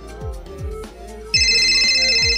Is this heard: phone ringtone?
yes